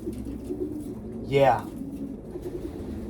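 A racing pigeon hen gives a single soft rising coo close by, lasting about a quarter second, while someone talks briefly over a low ambient hum.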